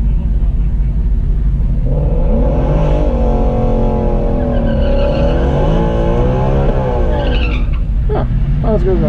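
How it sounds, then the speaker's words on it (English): A car does a long burnout at a drag strip, its engine roaring loud and continuous with revs climbing and dipping, tire noise mixed in and voices heard over the din. "Jay should do a nice big burnout for you guys."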